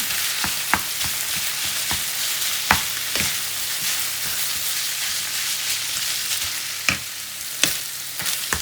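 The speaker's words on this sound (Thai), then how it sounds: "จากนั้นใส่หมูสับค่ะ ผัดให้เข้ากันนะคะ" Minced pork stir-frying in a hot pan, a loud continuous sizzle with scattered scrapes and knocks of the spatula against the pan, no voices.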